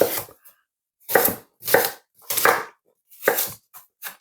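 A knife cutting up an apple on a board for juice, five or six crisp chops spaced about half a second apart, close and clear, with no other sound between strokes.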